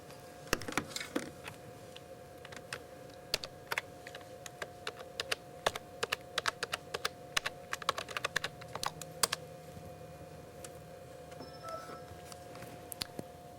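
Quiet, steady clicks of someone typing a username and password on a computer keyboard at a telehealth cart, irregular keystrokes over a low electronic hum, with no talking.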